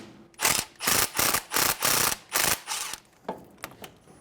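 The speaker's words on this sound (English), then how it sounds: "Using a 12mm socket, we're going to remove the bolt out of the old caliper." A ratchet with a 12mm socket loosens a front brake caliper bolt on a 2011-2014 Hyundai Sonata: about seven loud, close bursts of rapid clicking, then a few fainter, scattered clicks.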